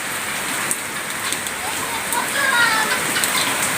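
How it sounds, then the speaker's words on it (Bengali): Heavy rain pours steadily during Cyclone Remal, with strong wind gusts swelling toward the end, a continuous broadband hiss throughout and a voice speaking over it. "বৃষ্টির সাথে সাথে বাতাসটা অনেক জোরে বইছে"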